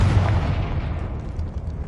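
The Confringo explosive spell in Hogwarts Legacy lands as a heavy, booming blast that rumbles and fades away over a couple of seconds.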